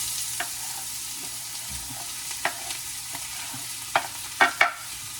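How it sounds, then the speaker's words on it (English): Green peppers and onions sauteing in a frying pan, a steady soft sizzle with occasional stirring clicks and scrapes toward the end, close and without voices. "I have a second frying pan that I'm going to saute some green peppers and onions"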